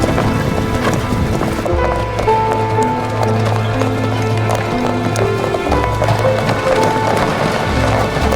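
Horses' hooves clip-clopping at a steady trot, rhythmic hoof beats with a soft wind-like background, fairly close, with no talking over them.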